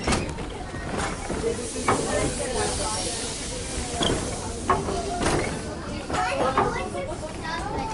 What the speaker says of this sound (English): Chugging quite slowly at this stage.